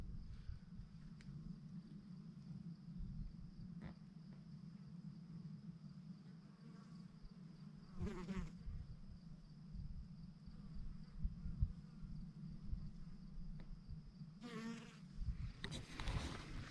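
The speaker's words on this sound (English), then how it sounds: "There's some more bee action." Bees buzz steadily around the listener, a low continuous hum with occasional louder passes as individual insects fly close, fairly faint overall.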